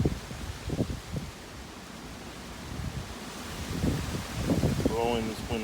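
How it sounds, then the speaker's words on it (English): Wind blows outdoors in steady, rough gusts that buffet the microphone, with a brief stretch of talking near the end. "It's very windy today."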